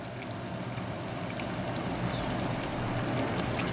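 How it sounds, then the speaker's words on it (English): Liquid simmers and bubbles steadily in a pot, a soft continuous fizzing and popping that grows slightly louder toward the end. "The way it's bubbling now will be good."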